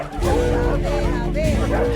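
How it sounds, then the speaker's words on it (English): Many dogs at an animal shelter bark, yip and whimper at once, making a loud, dense, continuous chorus of overlapping voices close by. "The barking was really intense, but something you get used to after a bit."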